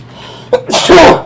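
One loud, close sneeze with a short sharp inhale just before it, then quiet.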